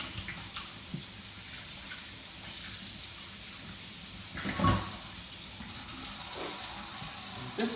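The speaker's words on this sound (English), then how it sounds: "Turn that on. And wash hands one more time." Kitchen tap running for hand washing during a cooking demonstration, a steady soft stream of water with a brief splash of hands moving under it midway, no talking.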